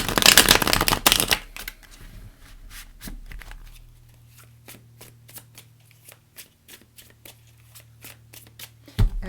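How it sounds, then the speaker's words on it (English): A deck of Celtic Tarot cards is shuffled close up, a dense riffling burst at the start followed by scattered soft card taps and slides over a faint steady hum. "I'm just going to give them a bit more of a shuffle."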